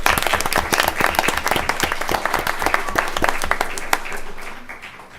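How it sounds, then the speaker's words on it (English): An audience at a school district board meeting applauds a group being recognized. The clapping is close and crisp, with many sharp individual claps, holds for about four seconds and then tapers off into quiet. "So if we can give them a round of applause."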